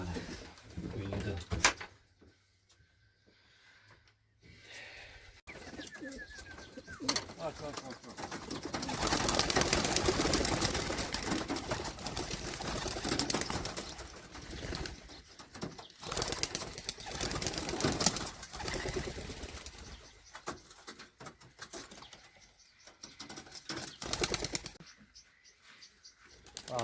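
Pigeons kept in a loft coo softly and flap their wings in bursts, with wing clatter and rustling swelling through the middle, under quiet outdoor background noise and a few faint voices.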